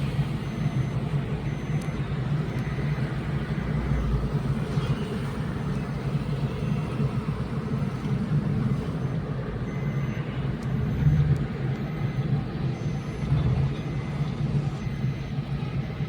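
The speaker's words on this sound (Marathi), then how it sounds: "गाड्यांचा वेग बघा" Steady roar of cars and trucks moving at speed in a fast lane on a highway near a metro bridge toward Hinjewadi, heard from inside a moving car as a continuous broad rumble with no talk.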